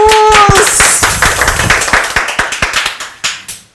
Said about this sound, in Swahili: Makofi ya the Kamaus.